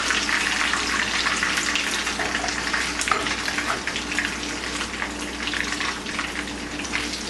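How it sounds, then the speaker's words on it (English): Chapli kebabs fry in a pan with a dense, continuous hiss of bubbling oil, close and steady throughout with no voices over it. "You don't want to fry too much because you don't want to burn them."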